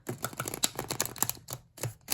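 Astrology cards being shuffled by hand, a rapid run of crisp, dry clicks and riffles in quick bursts with a short pause near the end, close and moderately quiet.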